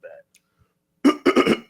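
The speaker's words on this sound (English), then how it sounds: "The throat clear says it all." A short gruff cough followed by a few rough, guttural throat-clearing bursts, close and loud, after a brief moment of quiet.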